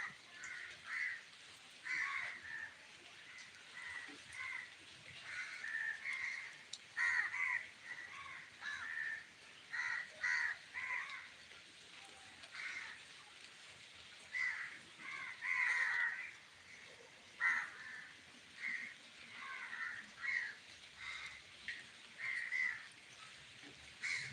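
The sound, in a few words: crows cawing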